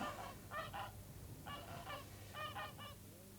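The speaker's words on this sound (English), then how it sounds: "That's a big, strong gander." A large, strong gander honks on Bardsey island: three close, loud bursts of harsh, repeated honks with short gaps, over a steady low outdoor rumble.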